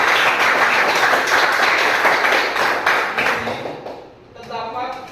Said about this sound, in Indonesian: Kasih tepuk tangan untuk teman.